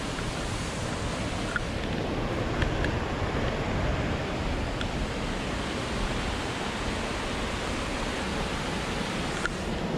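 The waterfall on Siouxon Creek makes a steady, dense rushing roar that fills the whole stretch evenly, with no pauses and only a few faint clicks on top.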